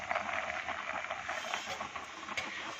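Chickpeas boiling in a pressure cooker give off a steady, loud hiss of escaping steam, a continuous broadband rush with slight flutter that stays even throughout with no voices over it.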